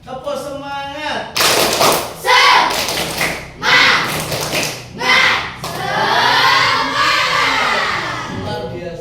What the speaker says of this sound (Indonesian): Tepuk semangat. Satu kali lagi ya, biar tambah semangat.